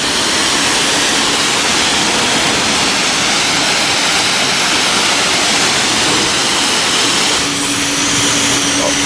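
High-pressure wand spraying soap in a manual car wash bay in North Bethesda, MD: a loud, continuous hiss and rush of water throughout, close and unbroken, with no talk.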